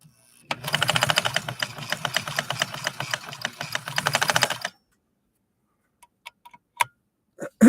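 A post-WWII Japanese sewing machine stitches a zigzag, a rapid rhythmic ticking clatter for about four seconds, followed by near silence and a few isolated clicks.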